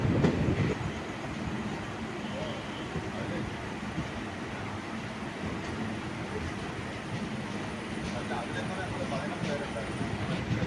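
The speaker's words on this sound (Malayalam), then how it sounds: "നമ്മുടെ ട്രെയിൻ ഇപ്പോൾ കായംകുളം ജംഗ്ഷൻ കഴിഞ്ഞിരിക്കുകയാണ്." The 16342 Guruvayur Intercity Express runs on rails between Kollam and Guruvayur with a continuous loud rumble and faint rhythmic wheel clatter, heard from on board. A voice talks over the noise.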